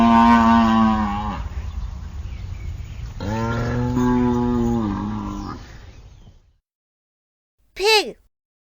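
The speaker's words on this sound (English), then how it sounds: "Cow." A cow moos twice up close, each call a long drawn-out bellow lasting over a second, followed by silence and then a short swooping chime.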